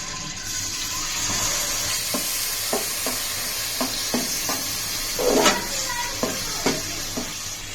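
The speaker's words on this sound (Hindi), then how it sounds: "मसाले को अच्छी तरह से भून लेंगे" Steady sizzling of spices frying in oil, with a series of sharp scraping stirs against the pan at irregular intervals, close by.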